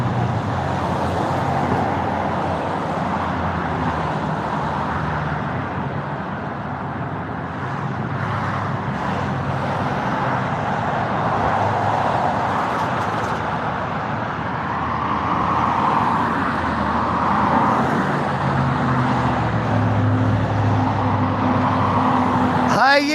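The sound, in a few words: truck driving on road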